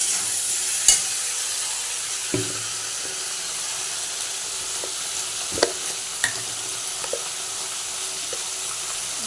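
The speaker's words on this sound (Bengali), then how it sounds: "একটু আদা বাটা দিয়ে দিচ্ছি একটু জিরে বাটা দিয়ে দিচ্ছি দিয়ে কষে নিচ্ছি" Ginger and cumin paste fries in a pan while a spoon stirs it, giving a steady close sizzle with a few sharp scrapes and taps against the metal.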